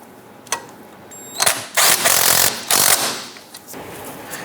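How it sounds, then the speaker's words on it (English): Impact or air tool snugging a control arm bushing bolt nut on a 1997-2006 Jeep Wrangler, loud, close rattling bursts in short pulses separated by brief pauses. "Let's go ahead and snug that down."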